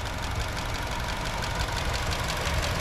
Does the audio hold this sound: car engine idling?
yes